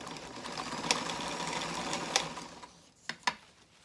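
A sewing machine runs steadily on a regular straight stitch along the collar of a child's cape, with a whirring hum and clicks, then stops and gives two sharp mechanical knocks.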